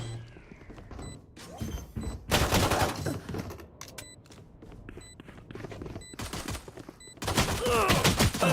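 Gunfire in the tactical shooter Valorant during a college championship match, with bursts of rapid automatic fire and single sharp shots separated by short pauses, loud and close, with faint background game sounds.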